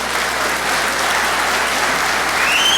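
A crowd at a town meeting applauds continuously, dense clapping at a steady, fairly loud level with no pauses.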